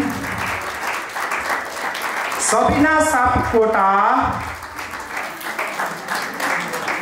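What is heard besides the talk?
audience applause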